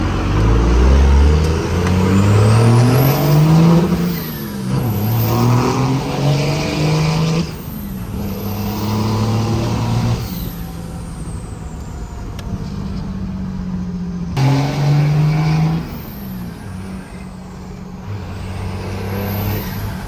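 A 2nd gen 24-valve Cummins diesel pickup engine revs repeatedly, loud and close, each throttle blip rising in pitch then falling back to idle, with brief hissing pauses between the runs.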